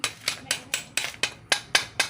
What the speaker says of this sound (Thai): ดี๋ยวเราก็จะตอกเข้าไปนะครับ